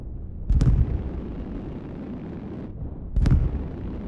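Sonic boom in the Microsoft Flight Simulator video game, a jet passing Mach 5 above 120,000 feet: two heavy, rumbling booming bursts a few seconds apart over a loud, constant low roar of engine noise.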